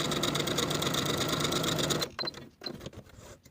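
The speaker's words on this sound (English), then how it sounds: "we're going to sew gathering stitches along the top edge from one side to the other using the longest stitch on your machine" A sewing machine runs a long gathering stitch along the top edge of peplum fabric pieces, a loud, steady mechanical whir for about two seconds before stopping, followed by a few softer clicks and handling noises.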